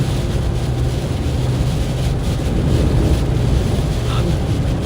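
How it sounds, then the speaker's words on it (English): Strong wind gusts buffet a microphone outdoors in Oklahoma during a tornado watch, a loud continuous roar with surging pressure and rumble throughout, no voices. "I'm getting a few gusts here that really want to shove me around."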